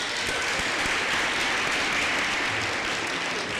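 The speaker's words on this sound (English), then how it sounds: "A big clap for them." A crowd at a University of Fort Hare graduation ceremony applauds steadily, a dense wash of many hands clapping at an even level from start to finish.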